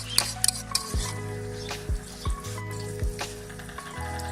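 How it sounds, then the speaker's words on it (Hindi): Egg batter for a Pakistani village-style omelette hits hot oil in a pan, giving a soft, steady sizzle with a few sharp clinks of utensils against cookware and no talking. "ऑयल हमारा अच्छे से गर्म हो चुका है। अब हम इसमें बैटर डालेंगे।"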